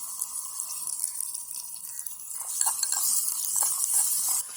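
Garlic goes into a pan of frying onion and tomato and gets stirred, a steady sizzle with scraping spoon strokes that grow busier in the second half, close and alone.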